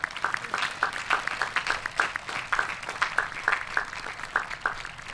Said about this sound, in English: Can we please give them a huge round of applause for the hard work that they have done?